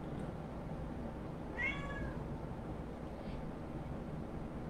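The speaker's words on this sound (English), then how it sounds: "My cat Billy Bob in the background." A pet cat named Billy Bob gives one short, faint meow in the background of a room, set against steady low broadband noise with no talking.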